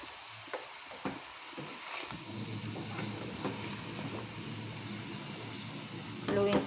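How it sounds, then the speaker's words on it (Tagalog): Vegetables, including kulitis greens, are stirred in a cooking pan, with scattered utensil taps and scrapes over a low sizzle. The sounds are quiet and close, with a louder clatter near the end. "Haluin ko lang to guys"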